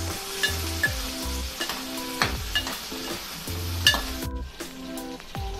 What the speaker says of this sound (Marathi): 2 तमालपत्र, 1 बारीक चिरलेला कांदा परतून घेऊया